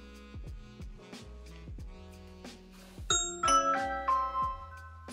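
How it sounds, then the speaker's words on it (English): A Ring doorbell chime played through an Echo Show 5 smart display: a sequence of clear, bell-like electronic tones ringing out one after another, growing brighter and fuller partway through, with no talking. "You can also choose different doorbell sounds."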